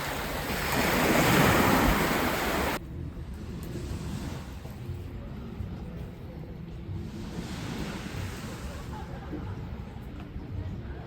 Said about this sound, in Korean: 와, 파도 대박.